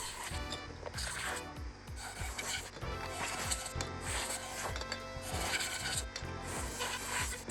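Steady, dense rasping of abrasive against carbon fiber drone frame parts, continuous and close, with a faint rhythmic thumping running underneath throughout.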